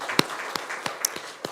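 A church congregation claps briefly after a sermon, a few sparse, separate claps spread over about a second and a half, fairly quiet with no voices.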